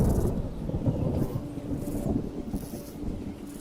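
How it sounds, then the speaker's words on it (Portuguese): Low, broad thunder rumble sounding at the moment a flower is plucked in a drama scene, a dense, sustained roll heard alone, with no voices. "a gente pode ouvir um trovão tocando na hora que ele faz isso"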